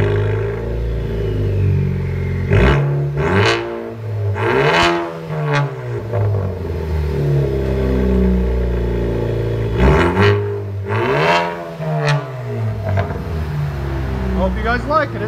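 A 2017 Ford Focus ST with a 2.0 turbo engine and a muffler and resonator delete revs repeatedly, with sharp rising blats and crackling drops between bursts and a raspy idle underneath, up close, while people talk over it.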